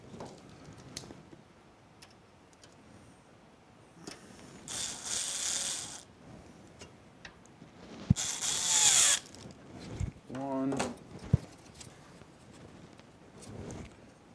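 A power drill drives screws into a thick PC case radiator during a computer build, with two loud whirring bursts and ratcheting mechanical clicks between quieter handling noises.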